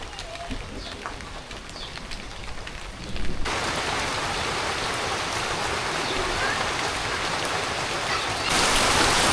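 Heavy rain pours down in a village, a dense, steady hiss that suddenly swells much louder partway through and grows heavier again near the end, with no other sounds standing out.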